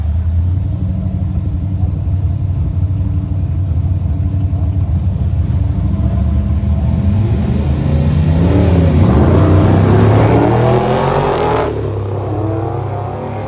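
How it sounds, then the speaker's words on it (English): A loud engine roar builds steadily as drag racing cars, including a 1964 Chevy Nova, accelerate hard, the pitch climbing and surging near the end over a constant rumbling background. "Here comes our next pair of cars"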